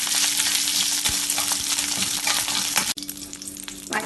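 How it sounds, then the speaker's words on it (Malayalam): Cumin seeds, dried red chilies and curry leaves sizzle steadily in hot oil for dal tadka, a loud close frying hiss with stirring scrapes throughout, briefly dipping near the end before resuming. "ജീരകം ഫ്രൈ ആവുമ്പോൾ ഇതിലേക്ക് 2-3 വറ്റൽമുളകും കുറച്ച് കറിവേപ്പില ഇടാം. ഇത് ഇളക്കി വഴറ്റാം."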